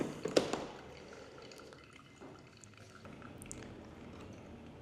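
Hot water poured in circles into a V60 coffee dripper, a soft, faint trickle and splash close by in a quiet room, with a brief louder burst at the start.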